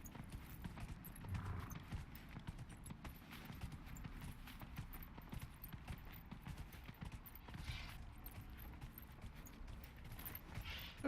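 Hooves clip-clop at a steady trot from a horse in Dragon Age: Inquisition, a quiet and continuous rhythmic patter with faint creaks and ambient game sounds beneath it.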